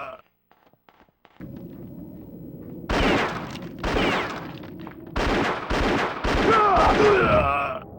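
Gunfire from the N64 game Indiana Jones and the Infernal Machine rings out as several sharp, loud shots in quick bursts over a low game hum, with some overlapping rapid fire toward the end.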